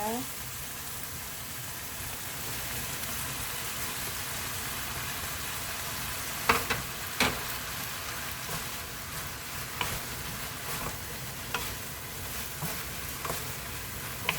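Bean sprouts, pork and vegetables stir-frying in a pan give a constant, close sizzle, broken by scattered sharp clicks and scrapes from the stirring utensil.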